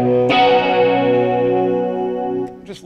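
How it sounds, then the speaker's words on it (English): A sustained electric guitar chord through a vintage ADA flanger pedal, with a swirling, sweeping tone that rings out and slowly decays, followed by a brief scrape. "It's an old vintage ADA flanger."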